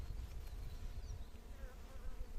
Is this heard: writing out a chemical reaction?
no